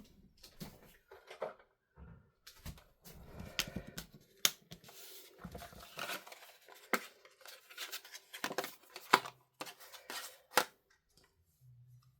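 Scissors snip through a sheet of patterned craft paper in a run of short, crisp cuts, close and fairly quiet, with some handling rustles and taps between the snips and no talking.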